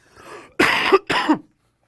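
A person coughs twice in quick succession, close and loud, after a brief throaty breath.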